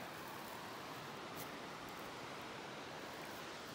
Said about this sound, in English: Baril Creek.